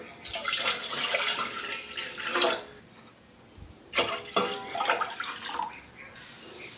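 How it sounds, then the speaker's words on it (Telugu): Water is poured from a bowl into a pot on the stove to cook rice-flour dough for onion vadiyalu: two separate splashing pours, close by and moderately loud, with a short pause between them. "ఇదే గిన్నెతో రెండు గిన్నెలు నీళ్ళు పోసుకోవాలి"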